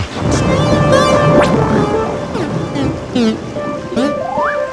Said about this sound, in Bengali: দেখছি বৃষ্টিটাও একটু ধরেছে